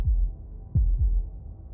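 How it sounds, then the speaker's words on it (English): Heartbeat from the video game Slay the Princess: deep, muffled low thumps, a few beats in a slow pulse over a quiet hum. "That was the sound of a heartbeat,"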